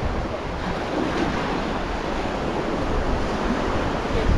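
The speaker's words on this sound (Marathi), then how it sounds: "हे देवगळी बीच आहे बघा इकडे" Ocean surf washes steadily onto Devghali beach at Kasheli near Rajapur on the Konkan coast, a continuous, close hiss and roar of breaking waves with wind and no voices.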